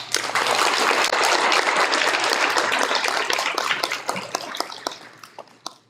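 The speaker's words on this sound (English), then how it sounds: "When I call your name, please stand up, and we can clap for each one individually." A room of families claps for a student at a fifth-grade moving-up ceremony, a dense burst of applause close by that holds steady and then thins into a few scattered final claps.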